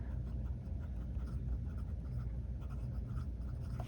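An Esterbrook Model J fountain pen with an extra fine nib writes on paper, giving a faint, continuous scratchy glide with small strokes over quiet room noise.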